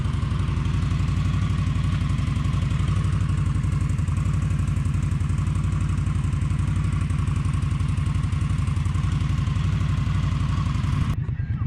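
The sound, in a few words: Honda Shadow motorcycle with Vance and Hines exhaust idling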